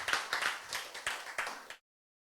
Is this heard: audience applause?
yes